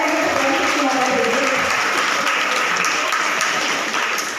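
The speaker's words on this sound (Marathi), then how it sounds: "एकदा जोरदार टाळ्या" Loud, sustained applause from an audience at a Gauri decoration prize competition ceremony in Talegaon, steady dense clapping filling the whole stretch.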